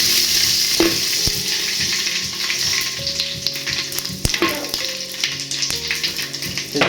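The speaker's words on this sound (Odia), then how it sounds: "ସେ ଯୋଉ ଛୁଙ୍କ ହଉଛି ନା, ସେ ହିଁ ମେନ୍ ଜାଣିଛ।" Garlic tempering for kanji spits and sizzles in hot oil, a loud close frying hiss with stirring clatter and a few sharp utensil knocks against the pan.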